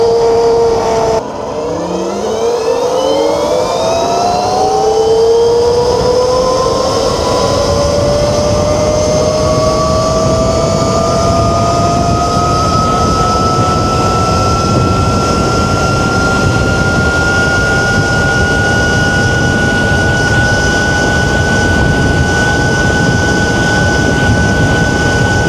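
An electric motorbike with a SOTION FW21 motor accelerates hard at a drag racing spot. Its rising electric whine climbs steeply in pitch and then holds a loud, steady high tone for the rest of the run.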